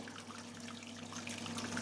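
Wort from a strong British ale brew drains through a filter with a steady, quiet trickle and faint splashing of liquid, running continuously without voices.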